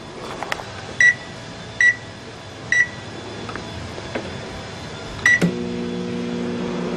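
A repaired microwave oven runs with its cover off, giving a low, steady hum. Short beeps sound at intervals over the hum and are followed by a final buzzing tone.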